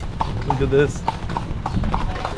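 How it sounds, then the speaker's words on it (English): Horse hooves clip-clop in a steady, close rhythm as a horse-drawn buggy rolls along Cuban streets, while a person talks over it. "We're sitting in a horse buggy."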